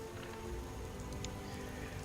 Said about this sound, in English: It started raining, which is just his luck.